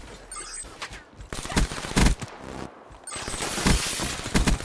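Rapid bursts of automatic gunfire in Call of Duty Black Ops 3 multiplayer, loud and close, several volleys separated by short gaps.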